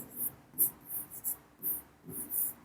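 Marker strokes squeak on a board, coming in short bursts with pauses between letters, close and fairly faint with no talk.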